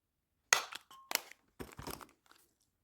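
Paper being cut with scissors and a hole being punched through it while making a handmade paper gift box for tea bags, a few close, sharp snips and crunches separated by brief silences.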